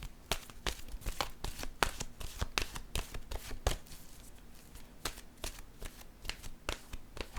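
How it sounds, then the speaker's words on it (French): Oracle cards being shuffled by hand, close and fairly quiet, a series of sharp riffling snaps and flutters in irregular bursts over a soft background, with no talking. "Je vais piger une carte maintenant de mon oracle de l'âme intuitive."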